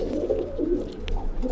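A close pair of Anari Fulsare pigeons, flying birds kept in breeding pairs, coo in low, rolling throaty phrases that repeat steadily, with a faint click or two and no voices.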